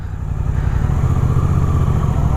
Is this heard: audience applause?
no